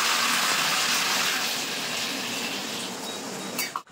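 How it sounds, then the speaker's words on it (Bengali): Water poured steadily into a pot of simmering bottle gourd curry, a loud continuous gushing rush that runs unbroken for several seconds before cutting off abruptly. "এখন আমি ঝোলের জন্য কিন্তু জল দিয়ে দেবো পরিমাণ মতো"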